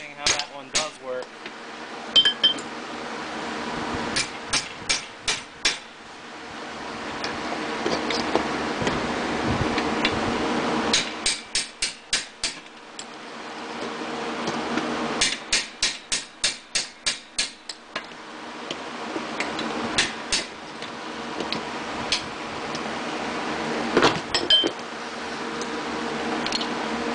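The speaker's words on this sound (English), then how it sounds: "I may have to just work this piston up and down a little bit until it works again" Rusty hydraulic jack piston worked up and down, rapid runs of sharp metallic clicks and ratcheting alternating with steady hissing and scraping, repeated in several cycles close to the listener.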